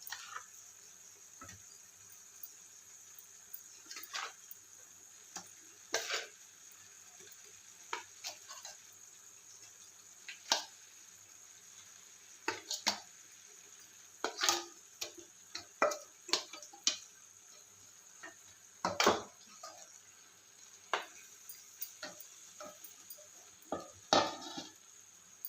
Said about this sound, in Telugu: ఇప్పుడు ఈ చేప ముక్కల్ని ఈ మసాలాలో ఒక 2 నిమిషాల పాటు వేయించుకుందామండి తిప్పుతూ